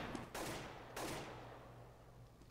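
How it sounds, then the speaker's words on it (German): CZ-75 pistol in Counter-Strike on de_inferno during an esports match, with two sharp, fairly quiet gunshots about half a second apart, each leaving a short decaying echo. "CZ-75 Pistole."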